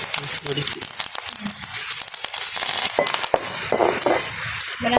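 Steady oily sizzling and crackling of prawns frying with curry leaves in a pan, with occasional stirring scrapes and a faint voice in the background.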